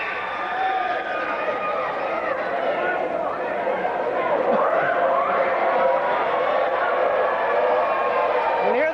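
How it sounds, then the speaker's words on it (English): Crowd chatter and murmuring fill a high school basketball game in a gym, Gate City against Rye Cove, a steady dense hum of many voices with occasional louder calls throughout. "You can hear the crowd in the background."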